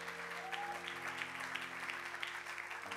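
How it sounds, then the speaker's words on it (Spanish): Congregation in a New York church applauds strongly, a dense sustained wash of clapping over a held keyboard drone, with scattered louder claps popping out of the crowd. "Fuerte ese aplauso"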